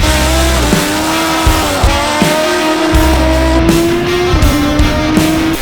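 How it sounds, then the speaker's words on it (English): A 435hp Suzuki Hayabusa tears along at very high speed, its engine wailing continuously with rising pitch and quick gear-change dips, loud and close over rushing wind. "Doing a wheelie at 140 mile an hour."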